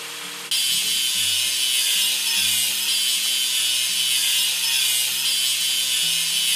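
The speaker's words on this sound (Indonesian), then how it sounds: "Dan kini, ayo asah sambungannya." Continuous rasping sanding of a rail joint in a train-building video game, a steady loud grinding texture under light game music with no pauses.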